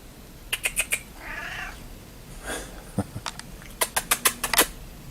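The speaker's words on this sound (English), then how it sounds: "My cat wants in, so I'm gonna let her in." A pet cat meows and caterwauls to be let in, several short cries with a drawn-out wail between them, followed by a rapid run of clicky taps, fairly faint and close in a quiet room.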